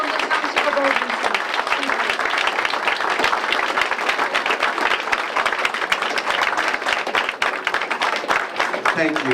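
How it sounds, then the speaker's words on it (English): A standing audience at a township event gives a big round of applause, loud, dense continuous clapping with a few voices faintly mixed in underneath. "I would like to everybody to stand up with a big round of applause as it come up."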